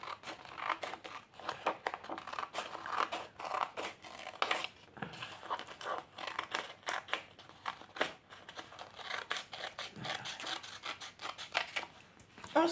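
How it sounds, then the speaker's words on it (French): Scissors cutting a hole in paper for a scrapbooking project, a close series of crisp snips and paper rustles in uneven rhythm with brief pauses. "Je vais couper le trou là."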